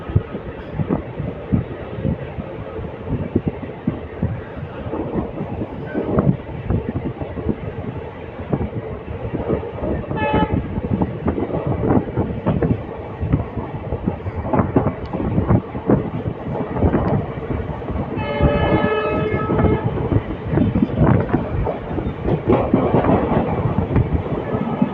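A Hubballi Express passenger train runs steadily on rails between Hyderabad stations, producing a continuous rumbling roll with a short horn-like tonal blast midway and another longer one near the end.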